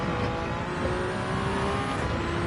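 Race car engine in a racing video game at the 24 Hours of Daytona road course, droning steadily and loud with a downshift to third and the throttle coming back on, no voices over it.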